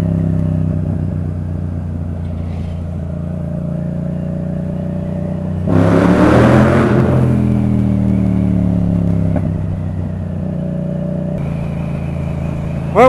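A Yamaha MT motorcycle fitted with an aftermarket exhaust idles with a deep, loud drone, then revs hard in one surge and settles back to a steady rumble, heard close and alone.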